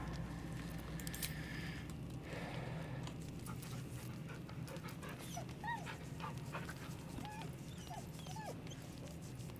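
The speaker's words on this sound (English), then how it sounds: "Bark." Scratch, the dog in Baldur's Gate 3, gives a few short barks and yips partway through, set against a steady bed of game ambience and background music with no talking.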